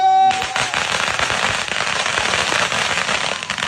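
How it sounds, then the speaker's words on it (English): A string of firecrackers goes off in a dense, loud crackling burst after a brief tone at the start, with rapid irregular pops running continuously to the end. "the firecrackers or the fact that the guy stands up there and watches them start going off"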